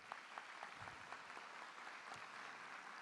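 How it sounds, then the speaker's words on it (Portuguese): An audience applauds at a talk in a steady, faint patter of clapping that carries on for a few seconds with no voices over it. "Dá uma salva de palmas para o Taleb"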